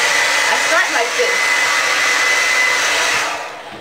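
A handheld blow dryer runs loud and close, drying hair with a steady broadband whoosh and a faint whine, holding constant before easing off at the end; no voices.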